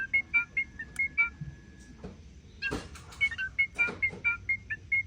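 A white-rumped shama imitates a mobile phone ringtone in short bright electronic-sounding beeps and trills, repeated in quick bursts, with a couple of soft knocks and rustles in between.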